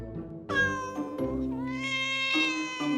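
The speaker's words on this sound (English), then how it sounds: "A cat!" A cat meows in a long, drawn-out call with a couple of shorter meows around it, loud and close, with no other sounds.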